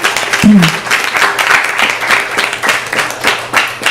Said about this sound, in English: please give them a big round of applause as well